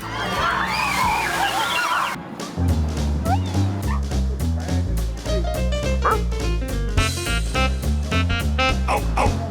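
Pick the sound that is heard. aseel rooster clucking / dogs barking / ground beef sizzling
dogs barking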